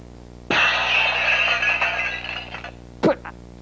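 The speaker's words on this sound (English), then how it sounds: "Broken glass." Glass breaking: a loud, sustained crash and scatter of shards lasting about two seconds, followed by a short, sharp clink of glass.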